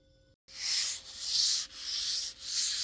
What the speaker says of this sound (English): I don't have any actual sandpaper, so I'm just using the one from the orbital sander.